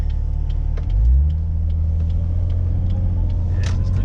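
A manual car rolling along in second gear, with a steady low engine rumble close by and a brief swell in engine note early on, continuing evenly.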